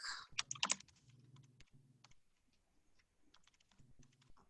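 Typing a search query on a computer keyboard: quick bursts of close, crisp key clicks, busiest at the start, then sparser taps over a low background hum, with no voice.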